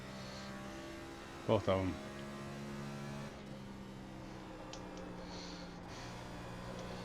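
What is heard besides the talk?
race car engine in iRacing video game at Rockingham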